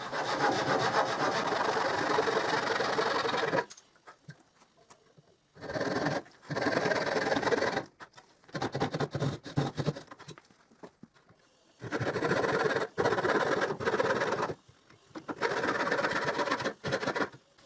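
A hand saw cuts a piece of wood for a wooden star, the work clamped to a work table. Close, rasping strokes come in steady runs lasting a few seconds each, broken by short pauses, with no speech.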